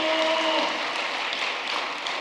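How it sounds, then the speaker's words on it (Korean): Church congregation applauding in thanks during a Korean-language service, a steady dense patter of many hands clapping throughout, fairly close and loud with no talk over it. "참 어머니께 감사의 박수를 올려주시기 바랍니다."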